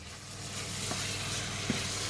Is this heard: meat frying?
yes